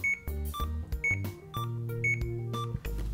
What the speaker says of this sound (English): If there is a buildup of more than 1 ml in 15 minutes, the pump will alarm.